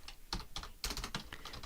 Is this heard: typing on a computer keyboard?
yes